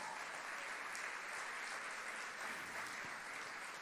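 An audience at a church gathering applauding, a dense, even wash of many hands clapping continuously at moderate distance with no pauses.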